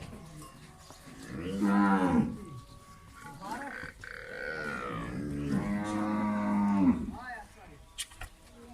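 A Sahiwal cross cow for sale in Pakistan lets out several deep, drawn-out moos close by, with grunting breaths and short pauses between calls.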